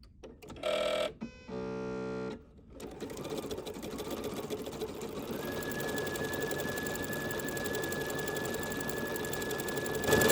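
A sewing machine stitches a pumpkin quilt wall hanging, starting with two short electronic beeps and then a steady, continuous motor whir with rapid needle chatter lasting several seconds.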